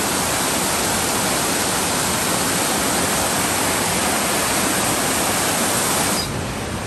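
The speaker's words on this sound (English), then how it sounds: "this is the confluence of New York Creek, that way, and Needle Creek" Two mountain creeks meet at a confluence in the Weminuche Wilderness of Colorado's San Juan Mountains, giving a loud, steady roar of rushing water that continues without a break until it drops slightly at the very end.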